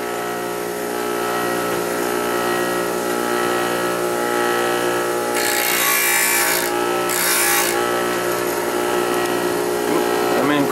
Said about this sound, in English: this is a drill bit sharpener